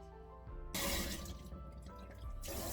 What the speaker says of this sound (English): I'm still gonna wash my hands.